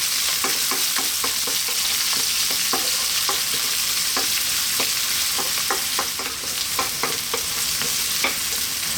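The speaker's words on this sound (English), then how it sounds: "In goes our onion. I'm on quite a high heat." Onion frying in oil over high heat for a lentil curry, a loud continuous sizzle with a regular series of sharp scrapes and taps from stirring, close and with no voice.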